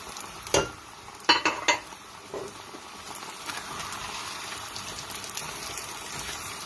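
Shredded cabbage fries in a pan with a steady broadband sizzle, punctuated early by a few sharp clanks of stirring against the pan before settling into continuous frying.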